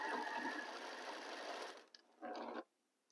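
Sewing machine stitching quilt seams in a steady, close whirring run that stops, followed by a brief second burst of stitching and then quiet.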